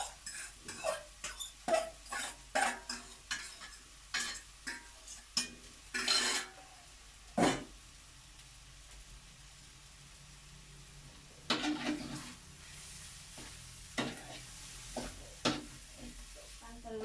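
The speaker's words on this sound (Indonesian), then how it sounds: "Kalau wortelnya udah matang, kita masukkan bihunnya." Carrots and softened rice vermicelli stir-fried in a pan at home: a steady, quiet sizzle with repeated scraping and stirring strokes of a utensil against the pan, no talking.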